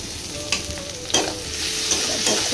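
Ginger garlic paste fries in oil in a pan, a steady close sizzle broken by a few sharp stirring scrapes and clinks, with no talk.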